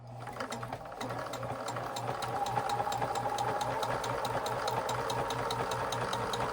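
A Burnette 330 sewing machine runs steadily while stitching a zigzag, its rapid, regular needle clatter and motor whir close and even, holding at a constant pace without talk.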